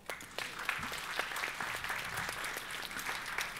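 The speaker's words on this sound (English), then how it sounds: "applause." An audience at a conference panel on aid and social sectors applauds a speaker's introduction, a short, moderately distant patter of clapping that stays even throughout.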